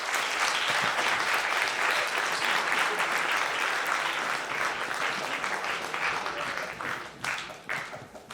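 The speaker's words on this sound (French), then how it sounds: "Merci à eux, on les applaudit bien fort." A film festival audience applauds loudly for several seconds in a dense, sustained wash of clapping, which thins out toward the end into a few scattered claps.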